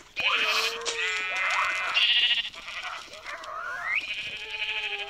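Sheep in the video game Minecraft bleat in a loud, wavering, nasal series of calls, close and continuous, with no talking over them.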